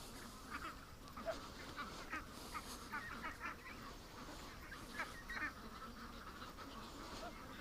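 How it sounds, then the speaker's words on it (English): A lone Muscovy duck making soft, breathy repeated calls at moderate distance, in scattered short bursts over a faint outdoor background. "Oh, I've got a lone Muscovy over here."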